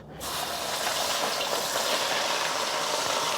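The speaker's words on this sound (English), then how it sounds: "We're just going to let that sear for about a minute before moving it around." Previously frozen, thawed beef drops into hot peanut oil in a pan for noodles. A loud, steady sizzling hiss starts abruptly and holds evenly without pause.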